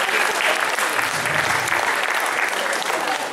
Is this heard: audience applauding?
yes